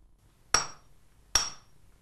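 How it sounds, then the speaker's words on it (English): A swordsmith's hammer strikes a plain iron rod at the forge twice, each blow a sharp ringing metallic clang with a brief decay, about a second apart. "he hammers a plain iron rod down to a sharp point"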